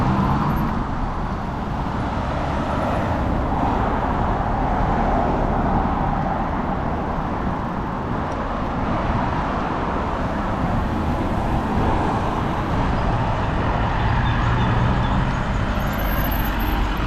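City traffic at a junction in Almaty, with cars turning across in a continuous mix of engine rumble and road noise, buses and trucks among them, near and steady for a long stretch, no talk.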